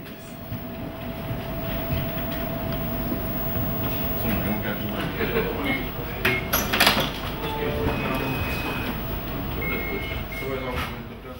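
A Porto metro train running above ground, a steady rolling rumble with a faint hum, a few brief hisses and squeaks and one louder clattering moment midway, continuous throughout.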